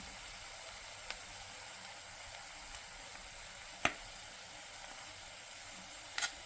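Mashed potato stuffing for aloo paratha going into a hot pan, with a soft, steady sizzle and a few faint clicks and scrapes, quiet and without talk.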